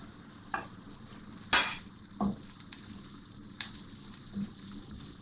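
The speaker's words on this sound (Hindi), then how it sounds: "और फिर इसी तरह चमचा चलाती रहूँगी।" Potatoes, onions and green chillies frying in a pan, stirred with a spoon: a soft, low sizzle with a few separate scrapes and clinks at irregular intervals, fairly quiet and with no voices.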